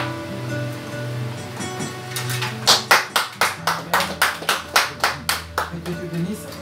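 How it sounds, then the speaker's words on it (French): A church congregation applauds during a worship service, a steady burst of rhythmic clapping that swells from light scattered claps into loud, regular beats over a low murmur. "On applaudit toujours la parole de Dieu"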